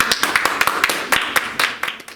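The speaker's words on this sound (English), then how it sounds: "A big applause for him" Audience clapping for a student speaker at a school public speaking contest, close and loud, distinct hand claps in a quick uneven rhythm.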